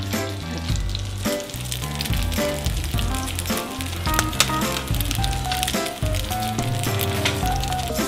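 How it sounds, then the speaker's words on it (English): An egg fries in a pan with a steady, loud sizzle that runs through the whole stretch, while tonal music plays over it. "It's a egg. Just fry it side to side, side to side."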